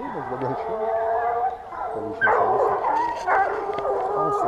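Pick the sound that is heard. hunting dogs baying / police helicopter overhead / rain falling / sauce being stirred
hunting dogs baying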